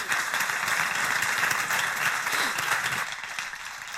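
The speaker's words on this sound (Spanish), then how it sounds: "Un aplauso para ellos," An audience applauds a panel at a conference on the Danish presidency of the Council of the European Union, a full, steady round of clapping that fades slightly near the end.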